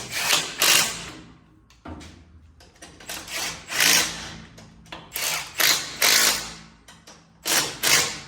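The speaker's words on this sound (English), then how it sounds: "But the backlash sounds amazing." Clunking, ratcheting rear-end gear backlash from a 1947 Chevy after a new rear end was fitted, heard as repeated loud mechanical bursts with short gaps between them and no talking.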